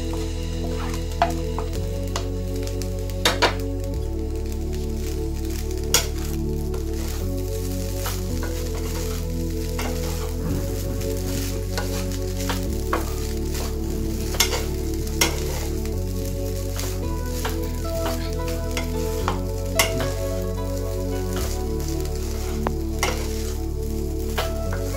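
Chicken fried rice with scrambled egg is stir-fried in a pan, giving a steady sizzle broken by repeated scraping and clinking of a spatula against the metal throughout.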